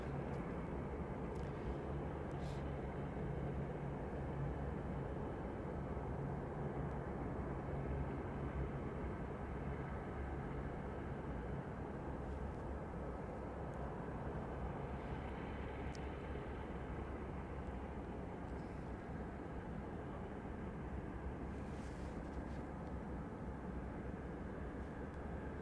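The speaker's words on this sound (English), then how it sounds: "as this small, juvenile plane makes its way around the larger, more mature aircraft" A small Saab 340 propeller plane taxis around larger jets at Anchorage airport, a steady, continuous broadband engine drone holding at an even level throughout, moderately distant and unbroken by voices.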